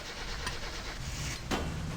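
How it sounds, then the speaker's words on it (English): A car engine in My Summer Car running roughly after starting, a continuous mechanical drone punctuated by a few sharp knocks, with a loud bang near the end. "the car was making this horrific banging sound, but it ran"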